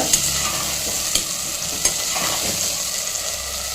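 Onion, tomato and soaked fenugreek sauté in a pan for vendhaya kuzhambu, giving a loud, continuous sizzle with a few sharp stirring clicks of a spoon against the pan.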